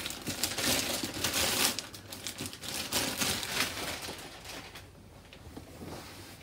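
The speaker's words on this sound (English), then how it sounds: "I'm gonna quickly remove the bag here." A plastic bag is crinkled and slid off a product box, with steady rustling and crackling close to the mic that thins out toward the end; no one speaks.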